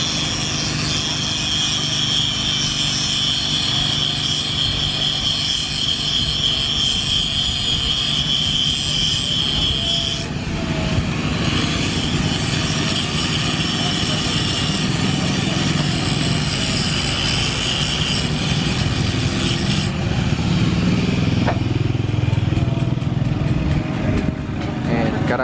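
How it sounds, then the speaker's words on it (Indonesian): An angle grinder cuts across steel at a railway level crossing before welding, a loud continuous whine with shifting gritty rasp lasting throughout, a heavier engine-like rumble underneath toward the end. "Sebelum dilas, digerinda dulu."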